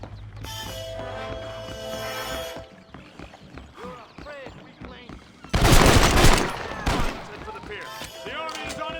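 Gunfire in Red Dead Redemption: a dense burst of rapid shots erupts midway, loud and close, while voices shout and talk before and after, with horse hooves faintly clopping.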